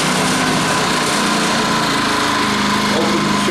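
A Champion 2000 watt stackable portable generator, choked and pull-started, fires and runs with a loud, buzzing small-engine drone that stays steady and close throughout.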